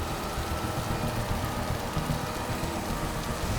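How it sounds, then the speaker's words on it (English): Heavy rain pours steadily in an Alberta highway storm, a dense, constant wash of broadband noise with no breaks, heard alone at moderate level. "The rain would pour, and then it would pour heavier and heavier and heavier"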